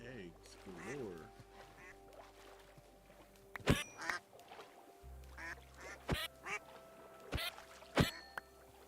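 Ducks quack in the Minecraft Homestead modpack, a series of short nasal calls in irregular bursts, with loud clicking game sounds and someone talking over parts of it.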